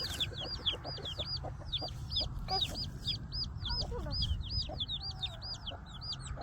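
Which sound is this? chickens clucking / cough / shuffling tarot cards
chickens clucking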